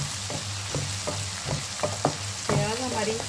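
Onions frying in hot oil, a close sizzle broken by a series of quick stirring scrapes and spatula knocks that grow busier toward the end.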